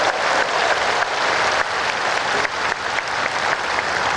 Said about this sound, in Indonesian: Lalu puji Dia dengan tepuk tangan yang Lift paling your meriah.